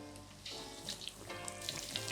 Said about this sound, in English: we should hear and see a little bit of sizzle, but not too ferocious